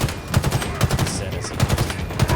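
Rapid automatic gunfire from a weapon in the video game Halo Infinite, loud and close, with short bursts of shots repeating in a fast, uneven rhythm.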